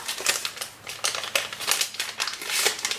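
Small plastic pouch from a beauty box being torn open and crinkled, a close run of crisp rustling and crackling bursts with no talk.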